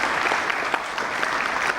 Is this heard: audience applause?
yes